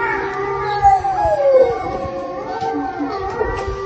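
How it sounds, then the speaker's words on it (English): Several neighborhood dogs howl together in long, wavering, overlapping tones at a moderate distance, steady throughout with no talking. "All the neighbors' dogs are howling"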